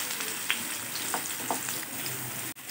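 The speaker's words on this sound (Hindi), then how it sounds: "ऑयल हमारा हल्का गर्म हो चुका है तो अब हम इसमें ऐड करेंगे ये प्याज।" Roughly chopped large onions hit lightly heated oil for a chicken tikka biryani gravy, giving a steady soft sizzle throughout with a few brief stirring clinks and scrapes, close by and with no talk.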